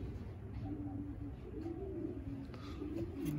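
Racing pigeons coo softly in a Texas loft, low repeated throaty calls layered under a steady background hum, faint and fairly close.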